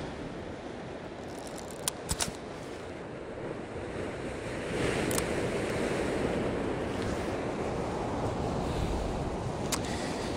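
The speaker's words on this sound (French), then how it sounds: "je pense qu'il y a une belle petite vague qui arrive, qui vient de taper, c'est impressionnant" Ocean waves breaking and rolling onto a shore, a steady wash of surf with wind buffeting the microphone, the surge building louder partway through and holding as a broad roar with no voices.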